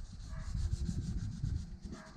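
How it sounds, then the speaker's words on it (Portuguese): Abrasive sanding rubs along the side panel of a Mercedes bus being prepared for paint, a steady, close scraping with a faint rhythmic back-and-forth and no talk. "Então estamos aqui, ó, lixando esse ônibus, ó. É uma Mercedes"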